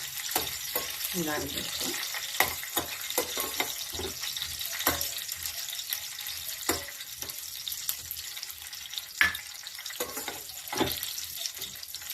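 Cashews and raisins roast in a pan for kesari bath, giving a soft sizzle broken by frequent clicking stirs and scrapes of the spoon, with a brief voice speaking over it.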